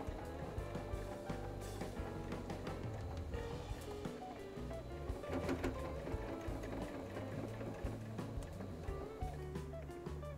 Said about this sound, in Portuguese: Baixo a agulha da máquina, viro e volto a costurar aqui, ó.